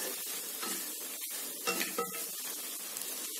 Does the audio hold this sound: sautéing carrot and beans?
yes